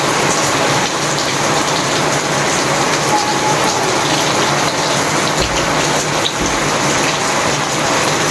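Heavy evening rain pours down steadily and loudly, a dense, unbroken hiss of water drumming on surfaces close by, with no pauses throughout.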